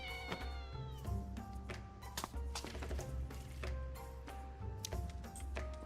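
A cat meowing in the video game Tales of Seikyu, with repeated meows and drawn-out caterwauls over steady game music with plucked notes, nobody speaking.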